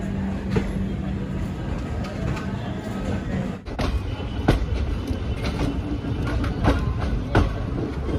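The Padmavati Express rolls through Gudur junction, its carriages rumbling steadily with repeated sharp clickety-clack wheel beats over rail joints, heard from inside the train.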